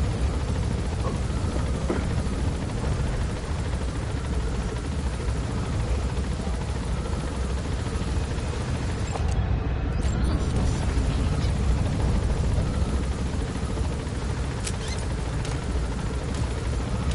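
Helicopter in a combat video game set in Afghanistan, a loud continuous rotor drone throughout with scattered gunfire-like bursts mixed in.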